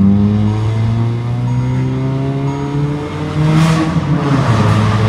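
Modified car exhaust revving loudly and steadily, with engine harmonics rising and falling and sharp crackling pops suggesting backfire bursts near the end, close and continuous without talk.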